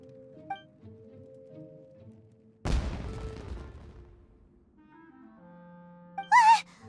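A sudden loud explosive blast like fireworks in Genshin Impact, one sharp boom followed by a rumbling, crackling decay over a couple of seconds, set between soft game music and effects.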